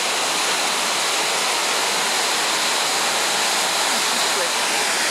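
The Ouzoud waterfalls in Morocco give off a steady, dense roar of falling water, loud and unbroken throughout.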